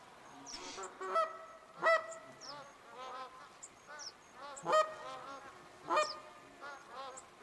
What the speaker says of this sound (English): So we've got some more geese coming down.